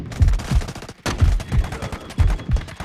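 Rapid bursts of gunfire in the mobile shooter game Delta Force Mobile, loud and close, with repeated volleys of shots broken by a brief pause.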